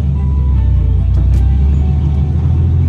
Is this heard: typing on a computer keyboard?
no